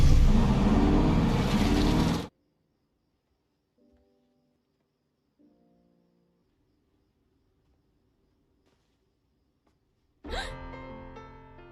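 In a movie scene, a stolen car roars loudly at the start and then cuts off abruptly, leaving near silence with faint tonal sounds before a loud engine-like burst returns near the end.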